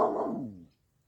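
A dog lets out one short, loud bark close by that trails off quickly, followed by near silence.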